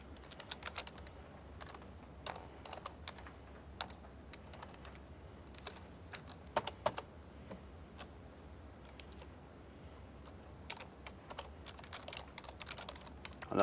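Quiet, close typing on a computer keyboard, with irregular bursts of soft key clicks and brief pauses, heard alone with no speech.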